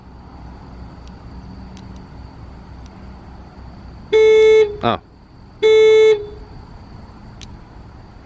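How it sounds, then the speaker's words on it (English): Two loud, blaring car horn blasts from a Hyundai Genesis G90, set off remotely by the key fob alarm button, sound about a second apart, with a brief exclamation from someone between them. "honk alarm horn button"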